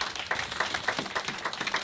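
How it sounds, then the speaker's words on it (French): A church congregation clapping together in steady rhythmic unison, a moderately distant, even run of claps with no voices over it. "Applaudissons le Seigneur."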